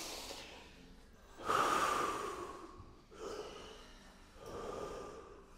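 Slow, deep breaths during a guided relaxation exercise, close and audible, with a sharp nasal inhale followed by long exhales and a softer breath cycle repeating at a calm pace, no speech.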